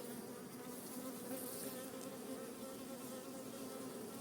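Dense, steady buzzing of many honey bees close by at the hive, a constant droning hum with no pauses and no voices.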